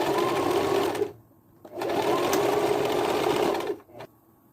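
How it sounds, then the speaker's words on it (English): A sewing machine stitches fabric in two bursts of rapid stitching, about a second each with a pause between, fairly close and steady. "we're going to take that to the sewing machine and sew that across"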